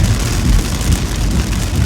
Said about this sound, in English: this isn't just like a little bit of rain, it's coming down pretty heavy right now